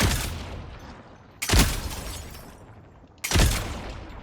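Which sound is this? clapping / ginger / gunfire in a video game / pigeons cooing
gunfire in a video game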